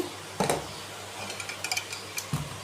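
Cut mango pieces drop into a mixing bowl with a few soft thuds and light clinks, spaced irregularly and heard up close in a quiet kitchen.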